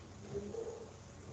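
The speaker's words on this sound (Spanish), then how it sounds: "El sonido de los pájaros" Birds coo softly in the distance, a couple of brief muffled calls over a faint outdoor hiss, with no voices.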